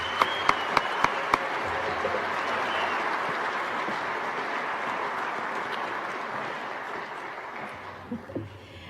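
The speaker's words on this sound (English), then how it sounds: "Please give a big round of applause to all the staff at Dixie State University." A university staff gathering applauds, with a dense crowd of clapping hands swelling and holding steady for several seconds before thinning out, a few sharp individual claps standing out at the start.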